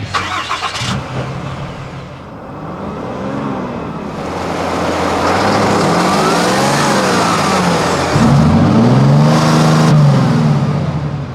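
A 2019 Ram Heavy Duty truck's 6.7 liter Cummins turbo diesel starts and revs, its loud drone swelling through rising pitch sweeps, then surging again near the end.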